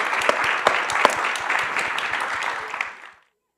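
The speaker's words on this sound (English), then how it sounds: "give everybody a round of applause for our great presenters today" An audience applauds the presenters of a climate innovation keynote panel, with crisp distinct claps over a steady crowd patter for about three seconds before it stops abruptly into silence.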